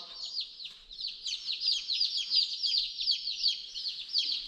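Newly arrived chicks peep in a dense, continuous chorus of rapid high chirps, close by and lively, with no talking.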